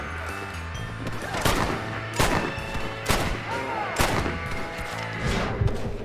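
Gunshots ring out in the Red Dead Redemption: Undead Nightmare video game, several loud, sharp cracks spaced about a second apart over game music, with a brief spoken word.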